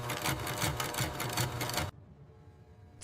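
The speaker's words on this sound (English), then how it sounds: "Automated machines stitch durable seams around the mattress perimeter" An automated sewing machine stitches seams around a mattress perimeter in a bed factory, giving a loud, fast, rhythmic mechanical rattle. It runs for about two seconds and then stops abruptly, leaving quiet room tone.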